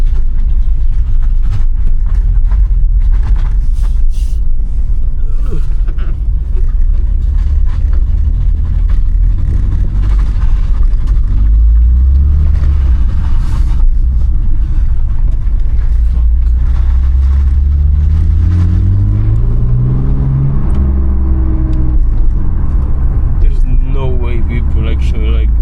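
A BMW E46 330Ci with a welded differential is being driven, its loud, steady engine drone filling the whole stretch and rising into revving pitch sweeps near the end.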